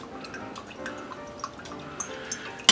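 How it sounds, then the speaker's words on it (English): Melted butter drips through cheesecloth into a mason jar, faint scattered drips over a quiet background, with a sharper tap at the very end. "this will melt or go through the cheesecloth into our mason jar"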